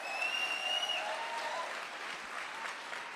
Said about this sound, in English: You can clap for that one.